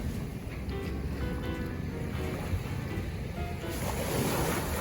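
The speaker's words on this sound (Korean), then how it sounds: "파도 소리 들으면 힐링하세요." Steady wash of surf rolling onto Songdo Beach in Busan, continuous and fairly close, with some wind noise across the microphone and no voices.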